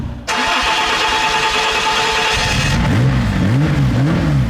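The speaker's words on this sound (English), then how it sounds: "It's cool hearing an actual V6 noise now." A Renault Clio V6 engine fires up abruptly and runs at a steady, loud idle, then its pitch rises and falls in repeated revs near the end.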